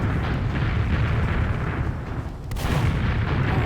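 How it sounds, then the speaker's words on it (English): Rockets fire and explode in a video game match, a loud sustained roar of blasts and booms that dips briefly and then surges again. "She's really rocking out with that rocket"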